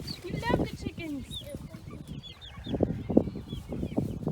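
Farm chickens cluck in short bursts, fairly close, mixed with higher chirps, while people talk over them throughout.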